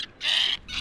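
A bird near a fishing spot gives two harsh, crow-like caws in quick succession, the first longer and louder than the second, fairly close over a quiet background.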